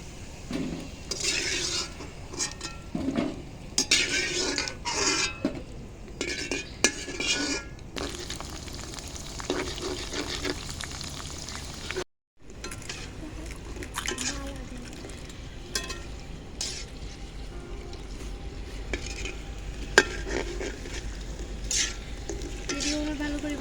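Phuchka puris fry in hot oil, a sizzling crackle broken by repeated stirring and scooping scrapes, with occasional clinks of utensils against the pan and a brief drop to silence midway.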